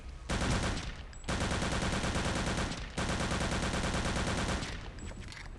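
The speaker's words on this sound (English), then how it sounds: "Who's shooting me now?" Gunfire in the video game Return to Castle Wolfenstein comes as long, loud, sustained automatic bursts with brief gaps between them. No voices are heard.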